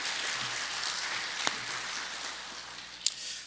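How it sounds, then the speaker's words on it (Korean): A church congregation at a revival service applauds children, giving a moderate, fairly distant wash of clapping with a couple of sharper isolated claps standing out. "우리 아이들에게 격려의 박수 부탁드립니다."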